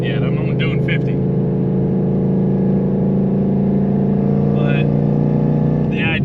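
Steady low exhaust drone and road rumble from a car fitted with an MBRP 5.0 exhaust cruising at about 50 mph, a continuous hum filling the cabin while a voice talks over it.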